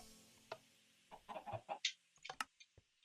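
Chickens cluck in a Minecraft game world, a series of short, clipped fowl calls scattered across a few seconds, moderately faint, with no talk over them.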